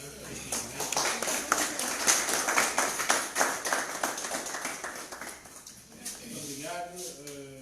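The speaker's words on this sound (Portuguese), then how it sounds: "Aqui, talvez uma salva de palmas, né?" A small audience at a round-table meeting on legislation for local authorities in Angola gives a brief round of applause, scattered distinct claps thinning out before a voice begins speaking.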